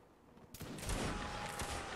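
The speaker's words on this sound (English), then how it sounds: "You see the artillery there get wiped out." Musket and cannon fire from a Napoleonic Wars video game erupts after a brief quiet moment into a sustained rumbling volley of crackling shots, dense and steady until the end.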